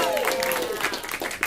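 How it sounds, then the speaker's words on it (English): Applause from a church congregation at a Sunday celebration service, a steady wash of clapping throughout the short moment with a voice speaking over it. "Round of applause."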